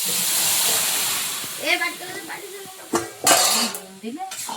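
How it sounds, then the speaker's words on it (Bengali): A child bangs metal plates and bowls in a Sundarbans home kitchen, with scattered clanks and clinks over a steady hiss, and voices talk between the strikes. "বাবু তোমার বনু প্রথমে থালা বাটি বাজিয়ে নিল"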